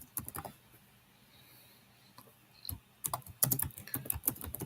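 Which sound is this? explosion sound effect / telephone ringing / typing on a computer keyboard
typing on a computer keyboard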